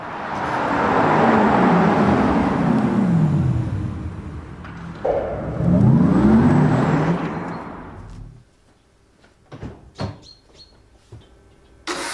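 A Porsche Taycan's smooth synthetic whooshing drive tone swells and sweeps in pitch as the electric car passes, dips, then surges again before fading into quiet with a few small clicks.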